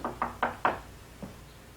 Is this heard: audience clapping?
no